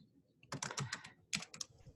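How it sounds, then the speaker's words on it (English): Typing on a computer keyboard during an online meeting: two quick bursts of close, crisp key clicks, quiet and alone with no talk. "I'm just typing, sorry."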